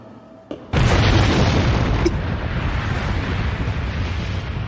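A sudden loud boom erupts after a brief quiet, then settles into a sustained, rumbling roar that continues steadily to the end.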